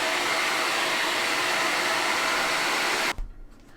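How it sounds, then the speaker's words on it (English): A blow dryer roars steadily at close range while drying Mod Podge on Dollar Tree wood pumpkins, then cuts off abruptly near the end, leaving a few soft handling knocks. "Now I'm going to take the blow dryer, dry them up a little bit"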